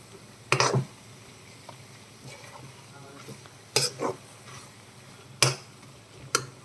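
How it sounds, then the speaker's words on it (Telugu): Bitter gourd tomato curry stirred in a pan, with a few short scraping clatters of a spoon against the metal, spaced apart over a low steady background. "ఒకసారి కలుపుకుందాం"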